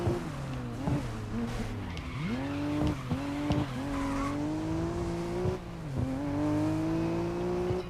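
A race car in GRID Legends slides and skids on snow, tires squealing in long wavering whines over a continuous engine drone, with repeated braking and gear shifts throughout.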